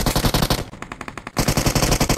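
Rapid automatic gunfire in the BGMI mobile battle royale game, loud continuous bursts of rattling shots with a short gap midway before firing resumes, no talk.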